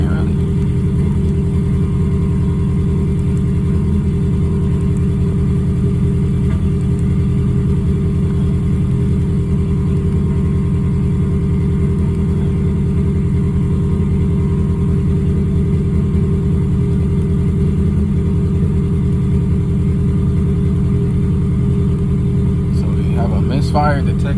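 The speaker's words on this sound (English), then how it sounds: "Misfire Detected cylinder 3." A car engine sits idling with a detected misfire on cylinder 3, giving a steady, low, continuous rumble that stays even for the whole stretch, close and fairly loud.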